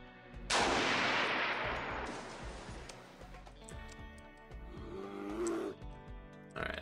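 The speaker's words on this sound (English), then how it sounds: "we'll just do single shots for now" A loud single gunshot in the colony sim RimWorld with a long decaying blast, followed by fainter scattered shots and impacts, no talking.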